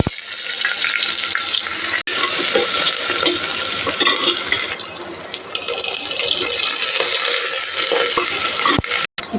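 Mustard seeds, garlic and onion fry in oil in a pressure cooker, a close, loud crackling sizzle with stirring scrapes throughout and a couple of brief sharp knocks.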